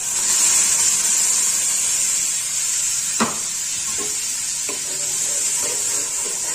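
Fried koi fish in a hot pan sizzles steadily as a yogurt spice mixture goes in, with a broad hiss and a few sharp spits and pops rising over it.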